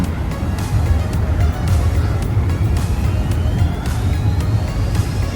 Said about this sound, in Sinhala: අර පැත්තේ බෝට්ටු යනවා.